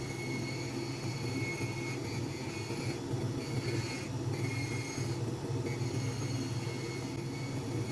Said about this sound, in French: À l'aide de mon banc de finition, j'égalise la semelle intermédiaire à la trait-pointe cimentée.